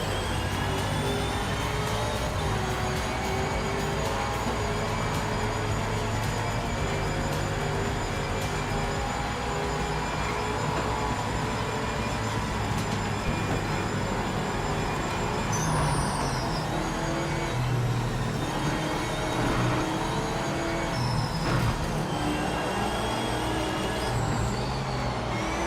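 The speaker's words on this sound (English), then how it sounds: "annoying race car sounds" Loud, continuous GT3 race car engine roar in the video game Project Motor Racing, with shifting revving tones throughout, dense and steady with no pauses or voices.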